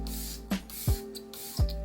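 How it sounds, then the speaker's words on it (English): Clarins Fix Makeup setting spray misted onto a face: three short, close pumps of spray hiss, each a quick burst about half a second apart, with no talking. "We're gonna finish our face off with a little bit of setting spray."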